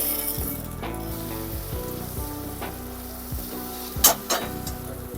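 Boiled potato and tomato pieces fry in a pan with ginger and garlic, giving a steady, close sizzle and crackle, with stirring scrapes and a few brief louder clatters of the utensil near the end.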